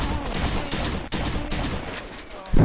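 Rapid gunfire from the shooter game S.T.A.L.K.E.R. fills the scene, a loud, dense burst of overlapping shots that continues throughout the short stretch.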